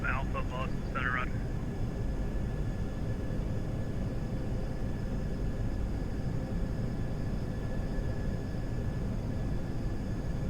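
FSLabs A320 airliner in a flight simulator flying a go-around, a steady loud broadband engine roar droning throughout, with a brief voice chirp near the start.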